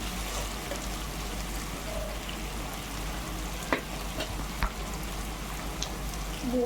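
Boiled chicken pieces sizzle steadily in a hot pan with a spice mixture, a continuous close frying hiss broken by a few sharp pops and stirring clicks, with no talking.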